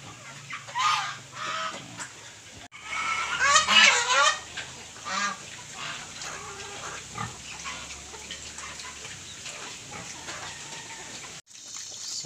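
Native pigs feed on corn bran and malunggay leaves, grunting and squealing close by amid honking geese and other fowl, with busy bursts of animal calls over a steady farmyard background.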